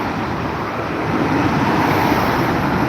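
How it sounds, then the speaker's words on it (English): Steady road traffic on a Melbourne street during a protest, a continuous broadband roar of passing cars and buses that swells slightly as vehicles go by, with no talk. "I'll show you some traffic."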